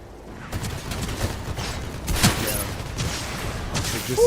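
Bursts of gunfire crackle at moderate distance in the video game Gundam Evolution, scattered shots and short volleys over a steady background hum.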